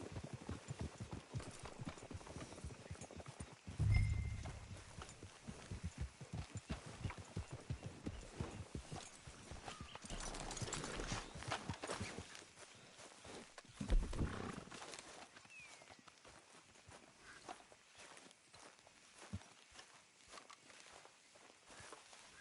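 Horses walking in a video game, their hooves giving a steady, close clip-clop over a faint outdoor ambience, with occasional louder thumps and a low roar-like swell partway through.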